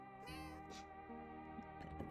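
A cat meowing in a cozy indoor setting, a few drawn-out, wavering cries close by and fairly quiet, one after another with no talk.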